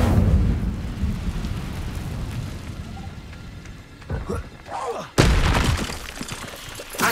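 The Incendio fire spell in Hogwarts Legacy unleashes a rumbling, crackling burst of flame, loud and close, with a sharp whoosh flaring up near the end and a voice speaking amid the effects.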